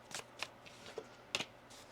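A deck of tarot cards is shuffled by hand in quick soft riffles and slides, several short papery bursts close by and quiet, with no talking over them.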